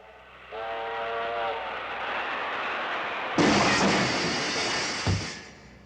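A train whistle blows a steady tone at a large railroad crossing, then a loud rushing roar of the train passing close by swells and continues.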